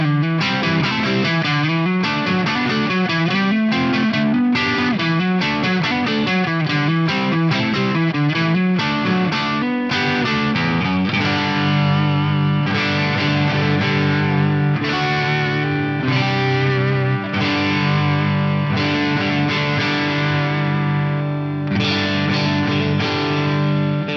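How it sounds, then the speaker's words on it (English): An electric Stratocaster on its neck pickup plays through channel 1 of a Redseven Leviathan preamp pedal, giving chimey, lightly driven chords and melodic runs in a continuous, loud passage with no talking. "We just heard some really nice chimey sounds out of channel 1 on the neck pickup of a Strat"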